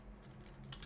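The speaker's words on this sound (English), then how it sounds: "Just continue typing on a keyboard without changing anything about it." Typing on a new computer keyboard with a custom layout, a soft flurry of quiet keystrokes close by.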